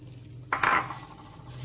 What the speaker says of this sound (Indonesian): Lalu kita masukin minyak sayur ya teman-teman, lebih kurang 2 sendok makan